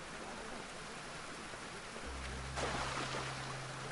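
Waterfall in Assassin's Creed Odyssey, a steady broadband rush of falling water that holds constant throughout and swells slightly louder near the end, with a low droning tone joining partway.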